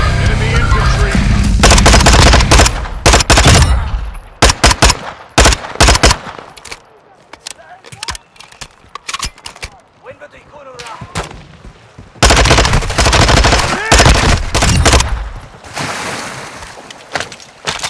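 Dense gunfire and explosions from Call of Duty: DMZ online gameplay, with loud bursts of shots and booms in heavy clusters at the start and end, and sparser scattered shots between, with faint callouts under the firing.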